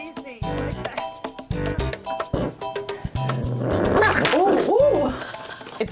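A small puppy reacts as its food bowl is taken away, giving short whimpers and yips and then rising whines near the end, close by, with a person talking over it.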